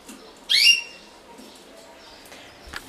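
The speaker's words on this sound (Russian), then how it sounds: "Пей, пой, птичка, не стыдись." A small pet bird gives one short, bright chirp up close, followed by quiet room background and a faint click near the end.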